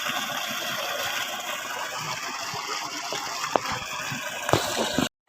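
Water gushes forcefully and continuously from a pump driven by a freshly rewound 5 HP motor, a loud steady rushing with occasional splashes and clunks near the end.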